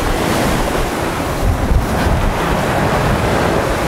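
Surf washes onto a wide sandy beach in Turkey, a steady full roar of breaking waves with gusty wind buffeting the microphone throughout.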